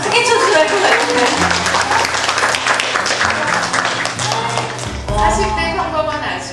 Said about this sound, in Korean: 여러분 박수 한번 크게 쳐주셔야 할 것 같은데